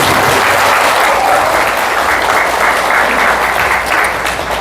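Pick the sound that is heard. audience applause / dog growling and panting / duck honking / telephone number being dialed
audience applause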